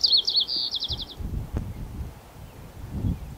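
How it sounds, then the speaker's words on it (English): A white-crowned sparrow sings one short, high, clear phrase of whistles ending in a rapid trill in spring in Vancouver, British Columbia, then falls quiet amid soft rustling. "A white crowned sparrow."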